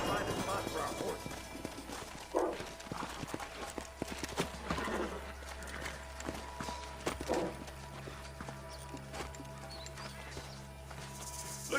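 Hooves clip-clop over ground as a horse walks and trots in Red Dead Redemption Remastered on the Switch, with a neigh or two rising over the steps and game voices and ambience underneath.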